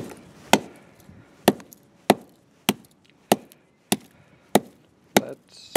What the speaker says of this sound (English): Just filming this camera smash.